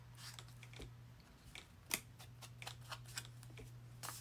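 Scissors snip through junk-mail envelope paper in a string of quick, faint crisp cuts, irregularly spaced, over a low steady hum with no talking.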